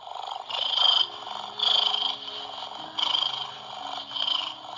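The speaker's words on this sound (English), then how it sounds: "That sounds like a cat in a tree with a bunch of crickets or something" A strange, unfamiliar cat-like call, pulsing in four or five rhythmic bursts over a steady high chirring like crickets, moderately loud and heard without talk.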